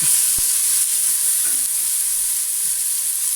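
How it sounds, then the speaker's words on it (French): Sliced onion sizzles in a little oil in a pot, giving a loud, steady, bright hiss with a few faint clicks and no voices. "je vais mettre, hop là, un petit peu d'huile, pas beaucoup. Je mets l'oignon."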